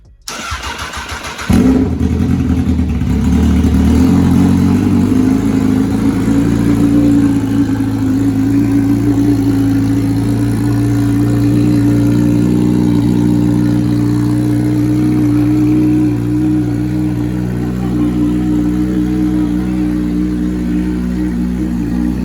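A 2019 Honda CBR1000RR motorcycle engine, rebuilt after a wreck, cranks and catches, then settles into a steady loud idle that runs continuously close by.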